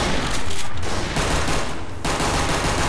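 Dense, continuous gunfire in the sandbox game Garry's Mod, a loud sustained fusillade of rapid overlapping shots with brief dips, heard alone without talk.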